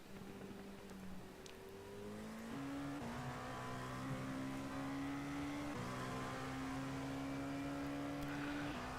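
Race cars lapping Daytona in the Rolex 6 Hours endurance race in a racing video game, with steady droning engine tones that shift pitch as gears change, a continuous moderately loud whine without talk.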